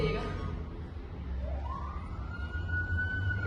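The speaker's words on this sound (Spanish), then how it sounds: "A lo lejos veo llegar 6 patrullas." Police car sirens approach from a distance, a rising wail that climbs and holds over a low rumble of traffic, growing slightly louder toward the end.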